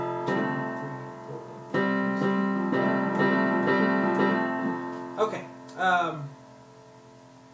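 Piano chords from the section just before the chorus of a song, struck in a steady rhythm with sustained ringing tones while a voice counts along and speaks briefly near the end.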